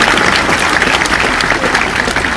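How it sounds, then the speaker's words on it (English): A lecture audience claps in a steady, dense round of applause after a talk on randomness, sustained and fairly loud throughout. "Let's give him a round of applause."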